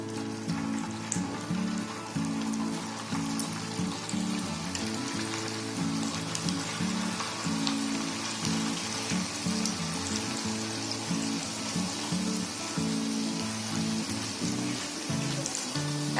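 Snack dough sizzling steadily in hot oil over a high gas flame, a dense, continuous crackle and bubbling that stays close and even throughout, with no talking.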